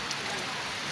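Heavy rain pouring down outdoors in a rural field setting, a dense, continuous hiss of falling water that stays steady and loud throughout the brief moment.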